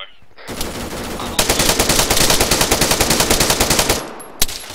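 Sustained automatic gunfire in a military shooter video game, a rapid, even burst of loud shots lasting about three seconds, followed by a single separate shot.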